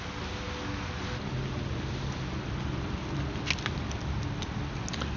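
Steady rain patters while someone fishes for bluegills from a boat on the water, a continuous even hiss with a few faint drips and taps standing out near the end, no talking.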